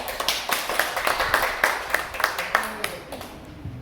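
A small group at a school session claps on cue, a rhythmic run of distinct hand claps in a room, with voices talking alongside.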